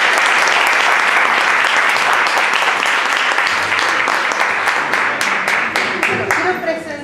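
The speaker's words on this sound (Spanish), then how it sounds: "un aplauso" Loud, sustained applause from an audience at an academic panel fills the whole stretch, and some voices are audible beneath it as the clapping tapers into distinct individual claps near the end.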